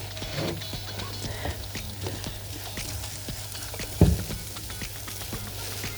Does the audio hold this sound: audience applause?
no